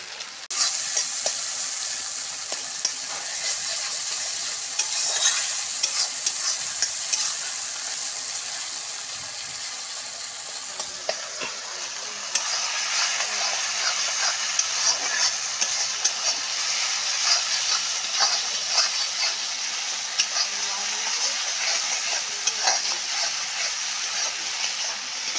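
Spiced masala with tomato sizzles steadily in oil in a pan for boal catfish curry, a loud continuous frying hiss with frequent scraping stirs, growing a bit fuller partway through, with no talk.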